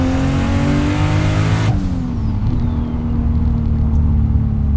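An 876 whp boosted 2JZ-engined MK3 Toyota Supra accelerates hard on a street, its loud, close engine note climbing steadily, dropping sharply at a gear change, then pulling again with a heavy rumble.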